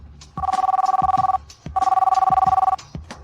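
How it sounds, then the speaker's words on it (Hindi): An old-style telephone bell rings in a Hindi-dubbed drama, two long trilling bursts of rapid clanging separated by a short pause, loud and close. "शू शाओ का फोन। जल्दी उठाओ"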